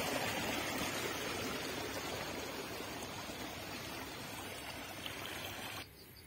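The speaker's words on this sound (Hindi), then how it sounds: "मोटर चलाती बरसीम च पानी छेड़न वास्ते" Water from a motor-driven pump flows steadily into a berseem field in a rural village, a continuous, fairly loud rushing trickle close by that drops slightly in level near the end, with no talking.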